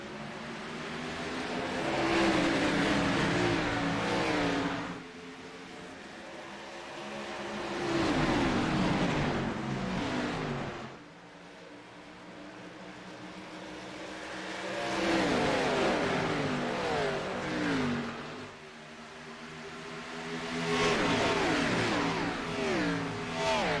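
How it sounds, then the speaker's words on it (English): Race cars in an Xfinity Series sim racing game at Nashville Superspeedway roar loudly as they accelerate after the green flag, the engine noise swelling and fading in repeated waves as cars pass. "And green flag is out. We are racing in Nashville."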